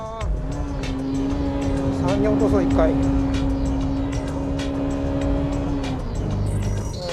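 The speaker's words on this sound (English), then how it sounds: "I'm going full throttle into the S and the spoon corners." A Honda Type R at full throttle on a racetrack, the engine holding a loud, steady high-revving note for several seconds before easing off, with a driver talking over it.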